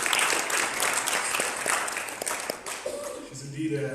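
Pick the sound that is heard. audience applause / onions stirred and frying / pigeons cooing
audience applause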